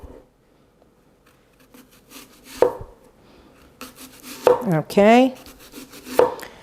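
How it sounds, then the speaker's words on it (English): A knife cuts through an apple on a board in a home kitchen, a few separate crunchy slicing strokes with quiet pauses between them, close up, and a voice briefly speaks once. "So we are going to cut the apple."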